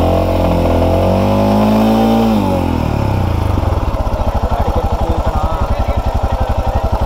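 A Royal Enfield Himalayan motorcycle engine runs with the clutch pulled in during a breakdown near a hill station. A loud, close drone gives way to a steady, rapid thumping idle rhythm.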